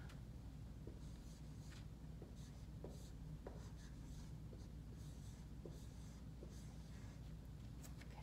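Pen or pencil writing out a number in word form, soft scratchy strokes in a steady irregular rhythm, very faint and close, with no talking.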